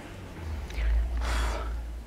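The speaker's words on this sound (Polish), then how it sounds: "Wdech, wydech" Breathing during a cardio workout without jumping: a sharp, audible inhale followed by a longer, breathy exhale, close and fairly loud, with no talking.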